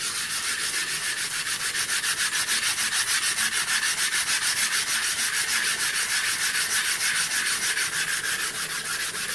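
Steady, continuous rhythmic scraping of a honing stone being lapped dry to build up a slurry for straight razor honing, a loud gritty rubbing stroke repeating evenly throughout with no talking.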